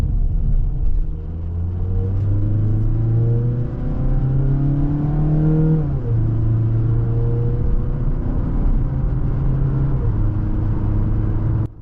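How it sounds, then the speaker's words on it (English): A 2025 Mazda CX-3's small engine revs hard through the gears under heavy acceleration, its dual exhaust droning and rising in pitch, dropping at a shift, then climbing again. "You hear the exhaust at the rear and you barely hear the engine in front struggling."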